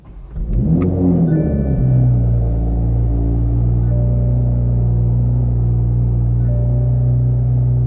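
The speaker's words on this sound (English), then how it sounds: "we can go ahead and start the car now" A Toyota Supra engine cranks and catches with a brief rev, then settles into a steady, loud low idle rumble that continues throughout.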